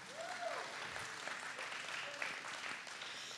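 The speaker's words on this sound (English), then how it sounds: "please give her a round of applause as well" Steady applause from the audience at a strings senior recital fills the whole stretch, dense clapping at an even level with no voices on top.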